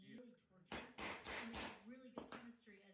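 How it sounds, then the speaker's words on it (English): A mallet drives a chisel through a layer of oak and two layers of walnut while making a wooden katana: a run of sharp, loud, close strikes, then a couple more after a pause, under a narrating voice. "Hammering away, I slowly cut the hole through a layer of oak and two layers of walnut"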